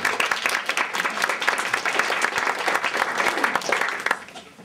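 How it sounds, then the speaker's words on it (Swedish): Warm audience applause for the introductory speakers at a Swedish panel on healthcare in crisis: dense, sustained clapping from a sizeable crowd that fades out near the end. "Och en varm applåd för våra inledare."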